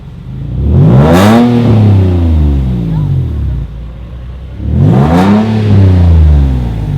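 A Nissan 350Z with a DNA catback exhaust revs hard twice, each burst climbing to a loud roar then falling back to a rumbling idle, close by.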